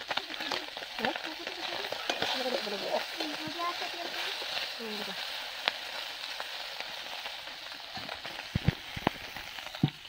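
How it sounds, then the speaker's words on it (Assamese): Fish fries in a pan during outdoor cooking, with a continuous moderate sizzle and popping crackles and a few sharp clicks toward the end, while voices talk over it. "এতিয়া মাছ ফ্ৰাই কৰি আছোঁ।"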